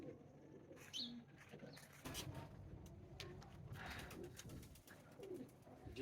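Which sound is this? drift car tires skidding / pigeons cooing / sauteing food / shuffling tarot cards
pigeons cooing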